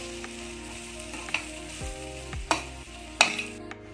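Spice and jaggery powders fry gently in a pan over a low flame after mustard seeds, giving a soft, steady sizzle broken by a few sharp stirring clicks and scrapes.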